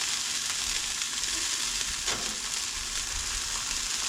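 A cheeseburger patty fries in a pan, giving a steady, close sizzle with a constant bright hiss and no voices throughout.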